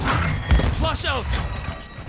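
A flash grenade goes off in Call of Duty MWII with a dull thump, followed by ringing tones and scattered chatter as players shout around it.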